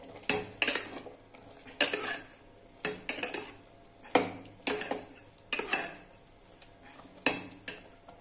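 A spoon scraping and clanking against a metal pot as fried vegetables are stirred into khichuri, a series of sharp rhythmic knocks about once a second over a low sizzle, close and clear.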